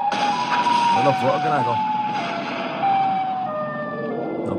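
Loud wailing siren from the Siren Head creature in a horror video game, a steady high tone sliding slowly down in pitch throughout, with someone talking excitedly over it.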